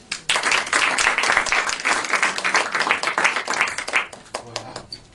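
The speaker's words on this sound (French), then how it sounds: "On l'applaudit." A theatre audience at a Paris mediumship show breaks into lively applause. The clapping is dense and close at first, then thins into scattered claps as it fades.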